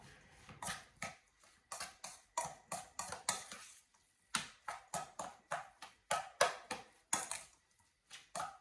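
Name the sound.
stirring seasoned ingredients in a bowl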